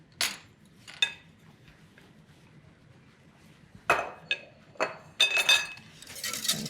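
A whisk clinking against a pot as custard with tempered egg yolks is stirred, giving sparse, quiet metallic taps and scrapes that cluster into busier bursts toward the end, with no talking.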